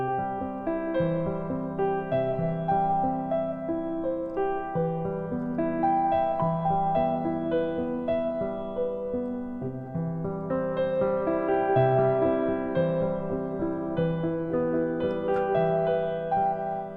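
Piano chords played as slow, emotional pop or film-score style music, sustained harmonies and a melody ringing steadily and up close with no talk.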